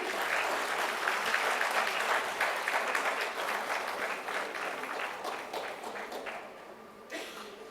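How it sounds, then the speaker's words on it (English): Audience at an awards ceremony applauds, a steady wash of many hands clapping from a distance, sustained then gradually thinning and fading toward the end. "Let's have a big round of applause for them."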